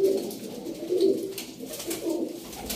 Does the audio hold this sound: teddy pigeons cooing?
yes